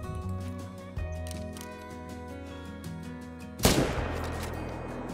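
A single hunting rifle shot fired at long range at a black bear in the video game Call of the Wild cracks out sharply near the end, over a steady tonal game ambience.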